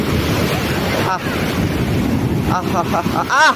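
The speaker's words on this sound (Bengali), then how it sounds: "ঢেউ আসলো, ফেলে দিল ওকে" Big ocean waves at Puri beach roll in as a steady, close roar of surf, with wind buffeting the microphone and brief excited voices calling out near the end.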